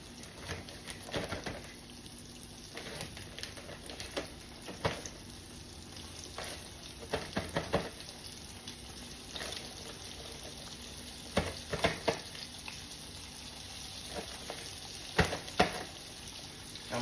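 Flour-dredged pieces sizzle and crackle in hot oil, a steady low frying hiss broken by frequent sharp pops and spatters throughout, fairly close and with no talking.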